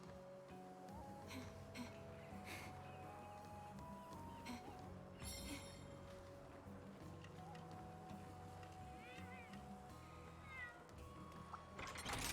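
Cat meows from a video game, several faint, repeated mewing calls scattered over a busy bed of game music and effects.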